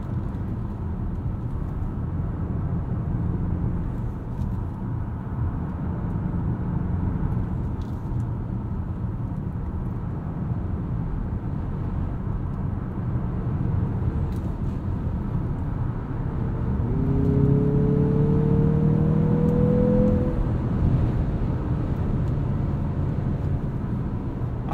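2023 Mazda CX-50 2.5 Turbo Premium Plus pulling hard under acceleration, a steady low engine and road rumble that swells midway as revs climb in a rising tone, then settles back into cabin drone.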